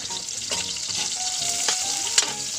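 Jackfruit humba sizzles and fries in a pan, a steady loud hiss with a few soft stirring scrapes and a small clink near the end, and no voices.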